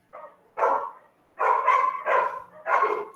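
Dogs barking nearby in four loud, distinct barks with short pauses between them, with no voices.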